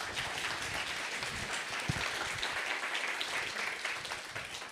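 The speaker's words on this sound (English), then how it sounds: "please applaud him" An audience at an app growth conference talk applauds a speaker, a fairly quiet, continuous patter of many hands heard from a distance for several seconds.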